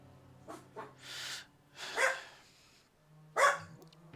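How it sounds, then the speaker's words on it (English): Dogs bark in a house, four or five sharp barks at uneven intervals, fairly close, with quiet room tone between them. "Let me wait for the goof troop here to stop barking"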